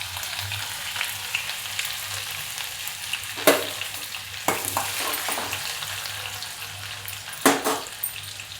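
Finely chopped garlic and ginger frying in hot oil with mustard seeds and cumin give a steady sizzle, broken by a few sharp spatula knocks and clinks against the pan.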